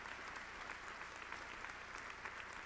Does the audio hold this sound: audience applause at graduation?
yes